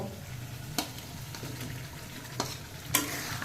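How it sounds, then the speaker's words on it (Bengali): Potatoes frying with a cooked spice paste for a banana-flower dish, a quiet close sizzle with three sharp scrapes of stirring spread across a few seconds, and no voices. "আলু দিয়ে 5 মিনিট একটু নাড়াচাড়া করে নেব।"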